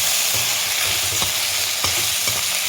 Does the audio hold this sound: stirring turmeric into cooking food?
yes